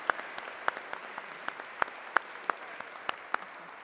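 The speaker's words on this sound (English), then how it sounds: "A huge round of applause for my panel." Sparse applause for a conference panel at a co-operative congress, with scattered, separate claps in an uneven rhythm rather than a full ovation.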